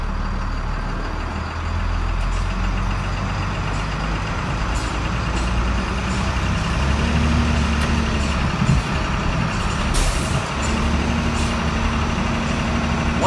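A truck in motion, its engine droning steadily with low rumbling road noise and occasional faint tones and knocks, sustained and fairly loud throughout with no talk.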